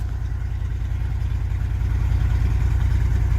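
A 1990s Chevy engine idles while warming up after a coolant sensor replacement, a steady low rumbling pulse that grows slightly louder partway through, close and with no talk.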